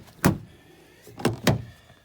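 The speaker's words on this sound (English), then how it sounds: "Press it once. Locking is triggered. You could hear it go." Three short, sharp mechanical clunks from the door lock actuators of a Nissan Leaf ZE1 as the remote locks it: one clunk, a pause, then two in quick succession, close and fairly loud.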